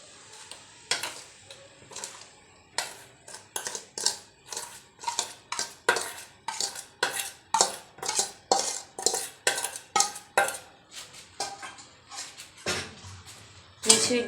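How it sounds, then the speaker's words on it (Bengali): Amla pickle being stirred with powdered sugar candy in a pan gives a steady run of scraping, clinking spoon strokes against the metal, fairly close and regular, with no voices. "মিছরি গুঁড়ো দিয়ে আমি এটাকে ভালোভাবে নাড়াতে থাকবো"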